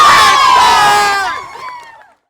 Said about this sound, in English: and then we'll shout hooray!